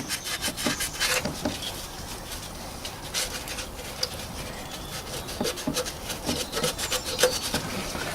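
Close scrubbing and rubbing on the metal mounting surface where the water pump sits on a 2007 Toyota Prius, a steady series of rasping, uneven strokes with no talk.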